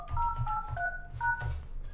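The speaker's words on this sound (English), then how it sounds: "I'm gonna call it from my cloud phone." Telephone keypad dialing tones from a cloud phone, a quick run of paired-tone beeps in an uneven rhythm, close and clear over a low hum.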